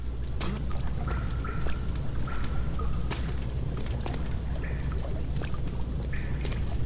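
Water in the horror game Amnesia: The Dark Descent gives a steady rushing, pouring wash with scattered drips and faint tones over it.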